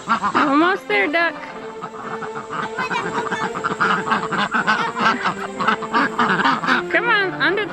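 A duck quacks repeatedly at close range while being herded on a homestead, its calls overlapping and mixing with a person's voice throughout.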